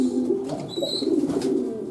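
Pigeons cooing at close range, soft low throaty coos repeating steadily over a faint background with a brief higher chirp.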